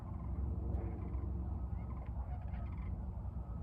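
Large birds, tagged as turkeys, give faint gobbling calls far off, half buried under a heavy, constant low rumble of construction noise.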